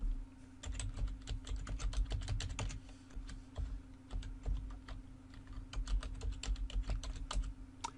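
Login details are typed on a computer keyboard in a quiet room as a run of quick, light key clicks in irregular bursts with short pauses, close to the microphone over a faint steady hum.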